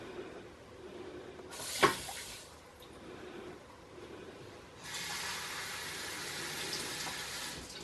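Water from a kitchen tap runs into a measuring cup for a rice cooker, a soft hiss that starts, stops briefly, then resumes as a steady stream, faint and without talk.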